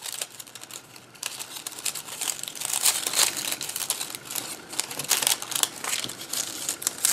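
Scissors cut through paper for a spiral lantern, making close, continuous crisp snipping and crinkling with rapid uneven strokes throughout.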